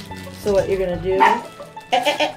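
Someone speaks briefly while a dog barks and yelps repeatedly nearby, the barks overlapping his words.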